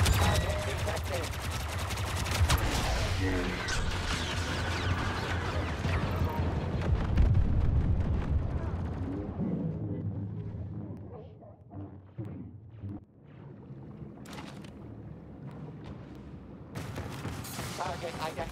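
A deployed turret fires at a target in a video game: dense, rapid bursts of gunfire and blasts pound steadily for several seconds, then thin to scattered shots, with game voices mixed in.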